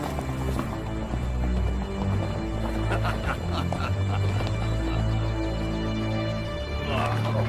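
Steady hoofbeats of a horse clip-clopping along, with a horse whinny and people talking over the top throughout.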